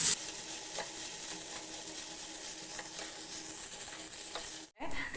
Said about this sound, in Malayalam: ചുകക്കെ നമുക്ക് വറുത്തെടുക്കാം